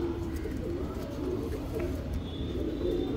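Breeding pigeons in a loft, among them a large white single-tail cock, coo in low, soft, rolling murmurs that hold steady throughout, with a faint high tone toward the end.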